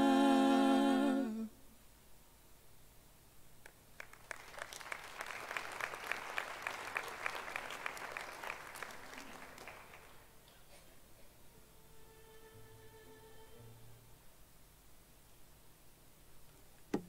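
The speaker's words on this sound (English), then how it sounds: "Shall we give them another round of applause, please?" Applause breaks out at a university graduation ceremony after singers finish, starting a few seconds in and swelling into steady clapping from a large hall audience for about six seconds, then fading out into quiet room noise.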